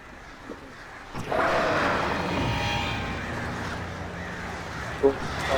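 Crows cawing around an abandoned town: harsh, repeated caws at moderate distance over an outdoor ambience, with a faint human voice also present.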